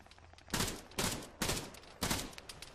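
Bursts of automatic gunfire in Arma 3 aimed at a low-flying red team transport helicopter: four heavy, loud volleys in quick succession, each a short rattling burst with no talk over it.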